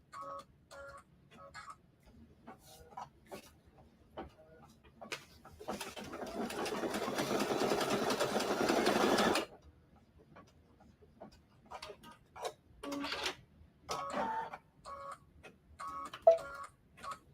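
Embroidery machine working on a Christmas quilt block, with a steady buzzing run of stitching for about four seconds in the middle, set among scattered ticks, clicks and short mechanical bursts before and after.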